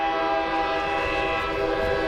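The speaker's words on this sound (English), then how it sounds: "the urgent blare of a train horn as it thunders onto the station" A train horn blares loud and sustained as a train pulls into a station, its steady multi-tone chord holding unbroken over a low rumble of the moving train.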